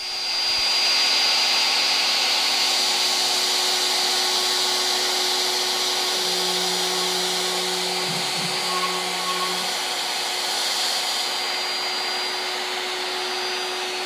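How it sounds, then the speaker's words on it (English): X-Carve CNC machine cutting fret slots in a guitar fretboard with a tiny 24/1000 inch end mill, a steady high spindle whine under a continuous vacuum-like roar, with a brief lower tone partway through. "I started by cutting fret slots with a tiny and very fragile 24/1000 inch diameter end mill."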